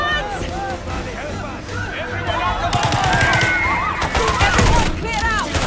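Gunfire bursts crackle through a hectic Call of Duty Black Ops 6 firefight, dense and continuous over the later seconds, mixed with shouting voices, crowd-like babble and other game noise.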